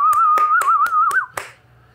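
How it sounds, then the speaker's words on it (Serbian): Six sharp hand claps in an even rhythm, with a wavering whistle-like tone running beneath them, from a Fortnite Rocket Racing gaming stream. "evo jedan aplauz za tebe"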